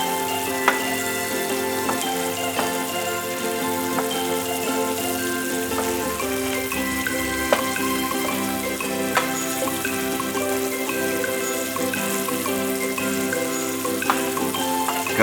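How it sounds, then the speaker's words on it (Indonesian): Nasi goreng with chicken and shrimp being stirred in a hot pan, a steady loud sizzle with occasional faint scrapes and clinks of the utensil, close and continuous without talking. "Lalu aduk kembali masakan sejenak."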